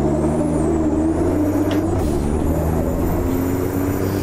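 A racing truck in the game Automobilista 2 with a steady, loud engine drone that holds constant low tones throughout, with no clear gear change breaking through.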